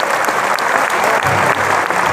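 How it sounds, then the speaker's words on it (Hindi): A large crowd at a live Shrimad Bhagwat Katha bhajan gathering in Nagda claps loudly and continuously, close and dense, without talk. "एक बार जोरदार तालियां सभी के लिए।"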